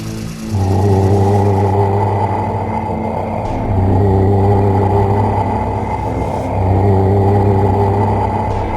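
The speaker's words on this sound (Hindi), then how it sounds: "गुल्ली ने गाड़ी की स्पीड बढ़ाई और तीनों वहां से फरार हो गए" Cartoon car speeding away from zombies, a loud deep engine rumble that kicks in suddenly and surges in waves as it revs up, close and continuous with no talk.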